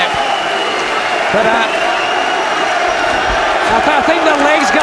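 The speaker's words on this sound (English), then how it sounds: "Oh, that was sweet, and the crowd are on their feet" A boxing arena crowd on its feet, cheering in a loud, steady roar that fills the whole stretch, with a commentator talking over it.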